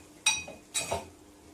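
A utensil clinks against a pot of snake gourd curry cooked with milk, then a lid is set on with a second metallic clink. Two sharp, close, quiet knocks separated by a brief pause.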